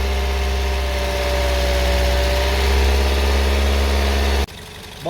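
Car engine held at about 2000 RPM during a charging system check, a loud, steady, close drone with a slight rise midway, then it cuts off abruptly.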